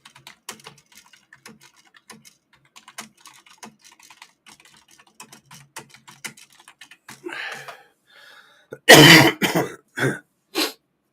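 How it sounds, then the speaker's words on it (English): A person in a casual online livestream taps lightly at a keyboard for several seconds, then gives a loud throat clear and a few sharp coughs close to the microphone. "Coughing is natural."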